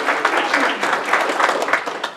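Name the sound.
audience applause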